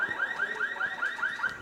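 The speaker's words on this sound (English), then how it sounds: "Hear the car alarm go off in the background." A car alarm goes off in the background near a baseball game between LHS and Wayne Co, a steady chirping siren repeating rapidly, about five pulses a second, moderately loud at a distance.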